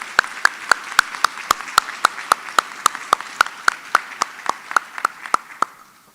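Evenly spaced single hand claps, about four per second and crisp in a reverberant hall, fading slightly toward the end, during an annual credit union meeting.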